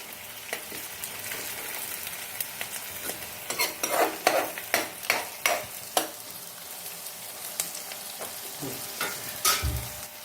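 Onions fry in a pan under a steady sizzle while a utensil scrapes and stirs in repeated sharp strokes, close and fairly loud, ending in a louder clatter.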